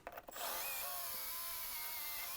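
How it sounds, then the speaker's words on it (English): A power drill bores a hole all the way through a piece of recycled material for a bandsaw light, starting after a few brief knocks and then running as a steady, loud, continuous whine up close. "Drilling a hole all the way through."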